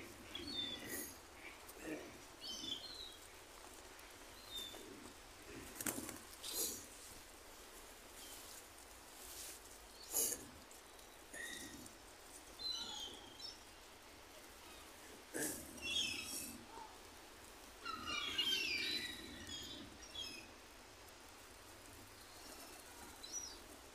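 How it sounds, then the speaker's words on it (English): Pigeons in a pigeon loft, with bursts of wing flapping and scattered soft calls over a steady noisy background, some flaps close and others farther off. "Beautiful pigeon. So many pigeons."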